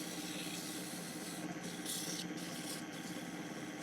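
Sandpaper rubs against a spinning pine table leg turned on a wood lathe, producing a steady, close hiss over the lathe's continuous hum, with a few brief brighter scrapes.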